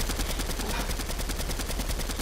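Rapid automatic gunfire in the video game Fortnite rattles out in a continuous, loud, close burst of evenly spaced shots that fills the whole stretch, with no voices over it.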